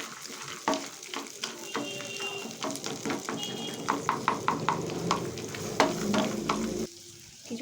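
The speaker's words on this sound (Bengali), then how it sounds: "এইভাবে গ্যাসের ফ্লেমটা লো করে একটু ভেজে নেব" White peanuts frying in a pan over a low gas flame, with a steady sizzle and a quick run of clattering stirring strokes, close and moderately loud, and no speech.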